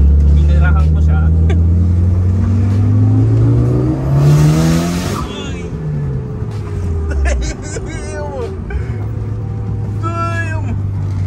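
A turbocharged Mitsubishi Lancer Evolution 6 engine revs hard and climbs in pitch, then drops off and rises again, loud and close, with brief tire squeal and faint voices.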